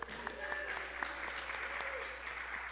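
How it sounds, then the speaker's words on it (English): Round of applause from a worship gathering for a person named Joel, moderate and fairly even clapping from a group, with a few sharper individual claps standing out and faint voices mixed in. "So round of applause for Joel."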